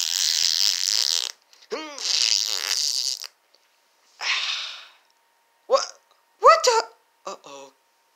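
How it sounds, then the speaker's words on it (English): Several short, sharp fart sounds come in bursts separated by silence during a Minecraft puppet show, with voiced squeaks and other comic noises in between. "Your mate just farted all over the screen and my face."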